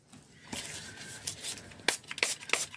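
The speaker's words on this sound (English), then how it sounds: "quick spray of alcohol" Short, airy hissing bursts of a spray bottle spraying alcohol onto poured resin, several quick squirts up close amid light handling noises.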